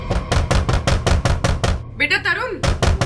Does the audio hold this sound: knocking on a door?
yes